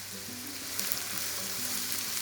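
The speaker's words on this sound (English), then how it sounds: "Mix it nicely and stir fry this." Green beans, carrots and peas stir frying in a pan give a steady, close sizzle and crackle with faint stirring scrapes throughout.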